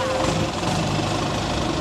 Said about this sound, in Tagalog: Ay, may tunog na naman yung bangka.